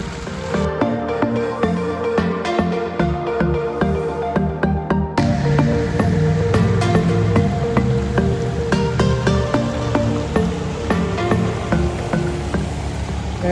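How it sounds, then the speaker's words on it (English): Water from a rebuilt backyard pond waterfall spills over about a ton and a half of boulders, a close, continuous splashing trickle with dense dripping and bubbling throughout. "And that's its new waterfall."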